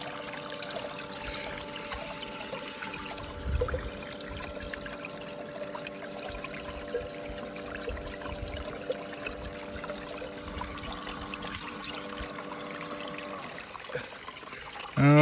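Water trickles and pours steadily over sand on a miller table used for gold recovery, a soft continuous wash with faint splashes, ending in a louder gush.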